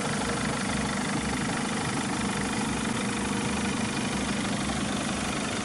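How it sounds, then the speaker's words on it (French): A camper van engine with a timing chain idling steadily, a smooth even low rumble with a regular pulsing rhythm, close and continuous with no talk. "Et le moteur tourne comme une horloge."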